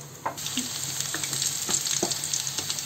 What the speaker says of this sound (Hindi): उसके बाद इसे अच्छी तरह से शैलो फ्राई करेंगे